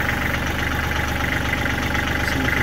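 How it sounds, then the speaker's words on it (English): A Kubota L3400 tractor's diesel engine idles steadily close by, a continuous even chugging throb with no talking. "I'm going to turn this tractor off so you can kind of hear better."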